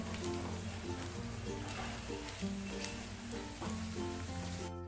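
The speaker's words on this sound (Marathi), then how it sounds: "थोडा थोडा आपण डिंक तुपावरती घालूया आणि चांगला फुलेपर्यंत तळून घ्यायचा आहे" Edible gum (dink) frying in hot ghee gives a soft, steady sizzle and crackle close at hand, fairly quiet, under a low background hum.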